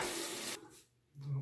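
Tap water splashing while a safety razor is rinsed in a sink, a short, close rush of water that briefly drops away and returns.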